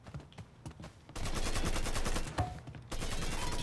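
Gunfire in the video game Mafia III: scattered sharp shots at first, then a loud, sustained burst of rapid automatic fire, a brief lull, and another heavy volley, with no talking.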